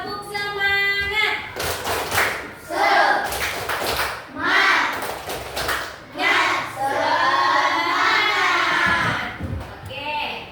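A class of children doing a rhythmic tepuk semangat spirit clap, bursts of clapping in a patterned rhythm mixed with the kids chanting loudly in chorus, close and lively.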